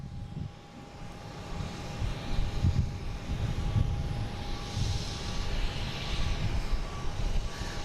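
An airliner bound for Paris at Boston Logan airport gives a faint, distant, rumbling engine drone that holds steady throughout, heard alone.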